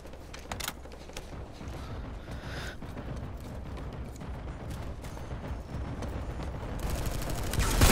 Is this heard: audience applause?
no